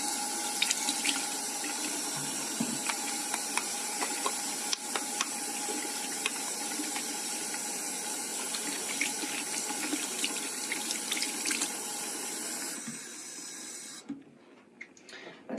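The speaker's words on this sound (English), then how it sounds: "She's going to go ahead and wash her hands." Tap water runs steadily into a sink as hands are washed, a continuous close hiss and splash with small bursts of change, cutting off near the end.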